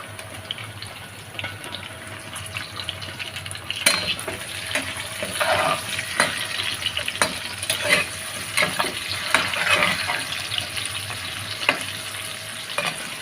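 Eggs fry in oil in a pan with onions for a cauliflower egg curry, giving a steady close sizzle broken by clinks and scrapes of a stirring spoon throughout, with no voices.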